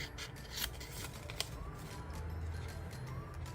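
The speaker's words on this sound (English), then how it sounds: "use my scissors and cut" Scissors snip through paper to cut out a rectangle for a bird paper craft, giving a few quiet close snips and rustles against a faint background hiss.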